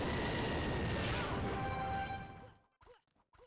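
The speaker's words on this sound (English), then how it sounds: "I throw a rocket at her" A rocket spell slams into its target in Clash Royale: a loud, broad explosive blast that holds for about two seconds, then decays into quieter scattered game effects.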